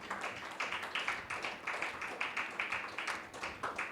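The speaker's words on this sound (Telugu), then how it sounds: "గట్టిగా చప్పట్లు కొట్టి దేనామని మహిమపరుద్దాం." A church congregation claps loudly in a quick, regular rhythm, sharp, even claps repeating steadily for several seconds with no talk over them.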